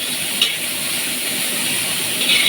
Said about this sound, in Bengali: এই বিনসটা ভেজে নিই।